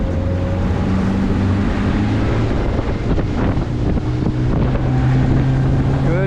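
A 180 Hewa Sportsman open motorboat's engine drones loud and steady as it accelerates onto plane, with rising tonal hum, hull and water rush, and heavy wind buffeting on the microphone.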